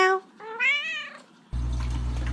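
A cat gives two clear meows, the second longer and rising, close to the microphone, followed by a steady low background hum.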